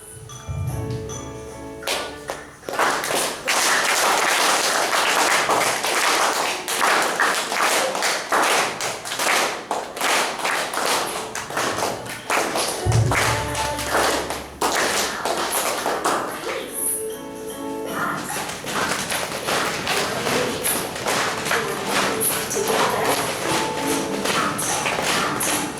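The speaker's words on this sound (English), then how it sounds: "Get ready to clap your hands." A group claps hands in steady rhythm along with loud background music, the claps continuing densely throughout with brief dips and a few thuds.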